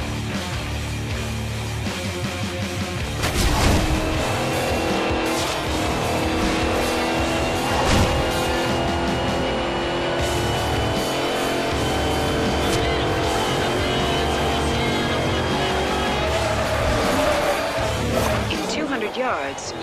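A car races at full throttle past speed traps in Forza Horizon 2, its engine roaring steadily and loudly with shifting revs and occasional tire noise, while a voice talks over it.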